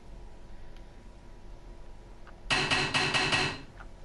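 Little hammer knocking in the video game Ether One: after quiet room tone, a quick burst of about five bright, ringing metallic raps, then the sound fades out.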